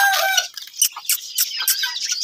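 Hens and roosters cluck and call at a mini zoo while feeding on oilcake and bran, with a steady run of close, overlapping bird calls and no talking.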